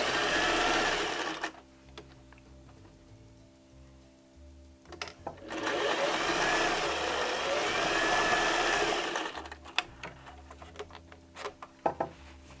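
A sewing machine stitching a toddler apron runs in two bursts, each a close, rapid whir, with quieter pauses and light handling sounds between them.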